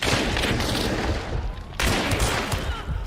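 Rapid fanned fire from paired pistols in the Hunt: Showdown video game, a loud dense fusillade of close shots with a brief lull before the barrage resumes.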